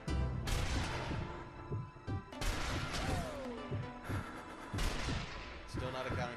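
Rifle shots in the zombie shooter Zombie Army Trilogy ring out as repeated sharp cracks over a dense, busy game mix, with several loud reports spaced across the stretch and voices talking underneath.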